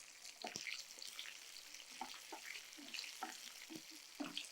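Sliced onion and a little capsicum fry on high flame in a pan, a soft continuous sizzle with light stirring scrapes, faint and close, with no voices.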